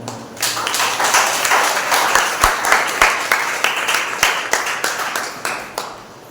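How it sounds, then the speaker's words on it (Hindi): Congregation applause at a Sunday church service: a loud swell of mixed clapping that thins into rhythmic, spaced claps before fading, with no talking. "एक बार जोरदार ताली बजाएं"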